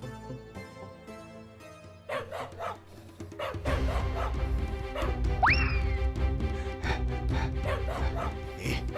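Cartoon dog barking and whimpering in short, loud bursts over a musical score, with a rising cartoon sound effect partway through.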